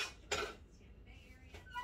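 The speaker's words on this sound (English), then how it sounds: "take my baking pans here out of my oven" Metal baking pans are handled at a home oven, making a brief clattering clank followed by fainter clinks and scrapes, close and moderately quiet, with no talking.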